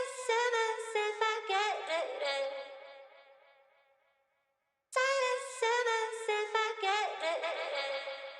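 A slowed-down Splice vocal sample sung at reduced tempo, with a warped delay tail that fades into near silence before the phrase returns loud and bright, no talking over it.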